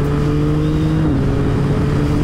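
A loud, close motorcycle engine drones at full throttle with a strong steady tone whose pitch shifts partway through. No voices are heard.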